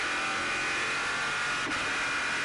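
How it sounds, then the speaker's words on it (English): A V8 GT1 race car engine roars steadily and loudly up close at Paul Ricard, a dense, continuous rumble and rattle with a brief dip partway through. "That V8 really sort of rumbling and rattling."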